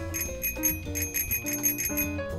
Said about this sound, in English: I was trying to ring the bell here.